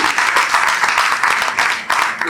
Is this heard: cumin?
no